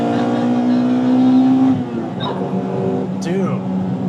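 A Honda Integra Type R engine roars with a loud, buzzy revving drone that shifts pitch and dips, with people talking over it.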